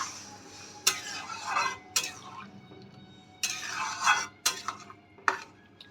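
Water poured into a pan of fish egg curry with potatoes gets stirred in several bursts of scraping and sloshing, with sharp clinks of the spoon against the pan in between and quiet gaps between the strokes.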